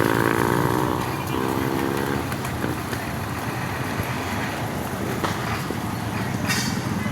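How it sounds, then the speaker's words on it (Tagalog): Motorcycles pass through a checkpoint, with the engine drone loudest at first and then easing into a steady, rumbling background hum that carries on, along with faint mixed noise. "Ang mga motor way nakasulod oh."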